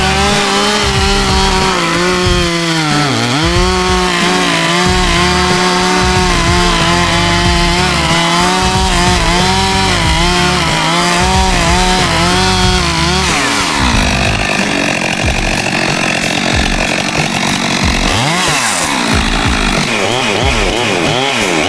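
A 462 chainsaw fitted with a 28-inch steel light bar cuts wood loudly and up close, its engine bogging and recovering under load for a long stretch before revving freely near the end.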